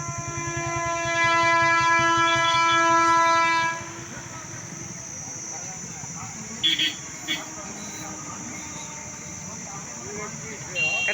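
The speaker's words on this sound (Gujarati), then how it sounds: "હલો ટ્રેન આવે છે તો આપણે અહીંયા જો બધા જોઈજો" A train passing near a road crossing, opening with a long loud multi-tone horn blast, then a sustained rumble and clatter of wagons rolling past, with people talking nearby.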